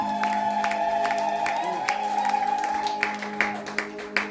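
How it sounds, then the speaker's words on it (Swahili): A church congregation claps in a steady rhythm with cheering and ululation, close and lively, while music plays underneath. "Piga makofi na vigelegele kwa Bwana."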